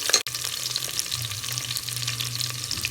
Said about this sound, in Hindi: तो अदरक लहसुन भी डालते हैं